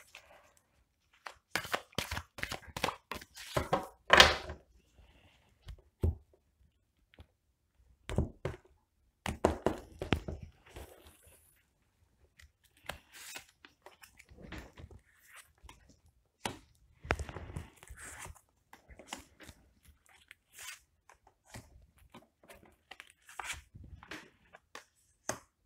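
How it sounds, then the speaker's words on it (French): Tarot cards are shuffled and drawn during a French card reading, making scattered close riffling, tapping and slapping sounds in bursts separated by quiet gaps. "on rebrasse les cartes et on va tirer des cartes."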